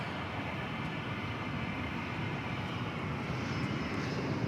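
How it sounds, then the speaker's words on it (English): An American Airlines Airbus A321 arriving from Los Angeles at DFW Airport at night gives off a faint, steady, distant jet rumble that stays even throughout, with no voices. "Got an A321 arriving from Los Angeles. American Airlines, as you can see."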